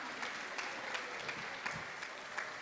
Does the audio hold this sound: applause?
yes